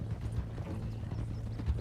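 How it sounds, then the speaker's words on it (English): Horse hooves clip-clopping at a steady gait in Red Dead Redemption 2, the horse steering itself while the rider holds shift, a close, continuous rhythmic thud with no talking. "I'm kind of letting my horse steer itself"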